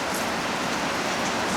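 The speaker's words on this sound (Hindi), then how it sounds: "मतलब अभी बारिश हो रहा है" Rain falls at a resort in Lonavala as an even, steady hiss with no breaks, soft to moderate and without any voices.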